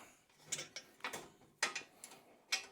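Ratcheting clicks from a tool tightening the rear wheel of a Velocette motorcycle, in short bursts of metallic ticks separated by brief pauses, close and fairly crisp, no talking.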